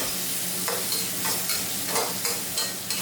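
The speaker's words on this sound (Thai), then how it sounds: "ผัดตับกับเครื่องผัดสักครู่หนึ่งก่อนให้มีกลิ่นหอมก่อนนะครับ" Pork liver stir-fried with aromatics in a hot pan, giving a steady close sizzle with repeated bursts of spatula scraping and stirring at a regular rhythm.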